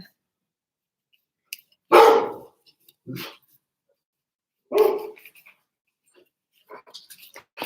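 A dog barks in a few loud, separate bursts, then a fainter scuffle or yip follows; the barks are close and stand alone, with no talk over them.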